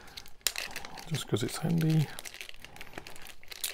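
Plastic bag holding 1/72 La-5 model kit parts crinkling in hand, crisp rustles and crackles in bursts, with a person talking over part of it.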